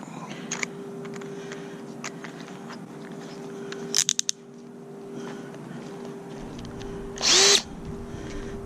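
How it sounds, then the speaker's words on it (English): Power drill with a 1/2-inch bit boring through a plastic kayak hull, short bursts of whirring and grinding separated by quiet gaps, including a loud final burst near the end, heard up close. "I'm just going to use a 1/2-inch drill bit"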